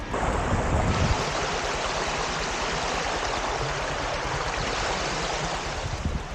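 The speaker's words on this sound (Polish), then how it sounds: "Górski strumień!" A mountain stream in the hills near Białystok rushes continuously in a close, loud, broadband roar of flowing water, with some wind buffeting the microphone at the start.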